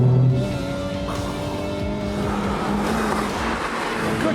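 Honda Civic Type R lapping a race track, engine droning loudly and steadily close up with rising and falling revs, with some tyre noise beneath it.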